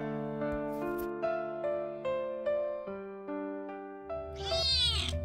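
A kitten with a broken jaw and an injured hind leg meows close to the microphone in a rhythmic string of about eight clear, tonal cries, ending in a louder, rougher wail.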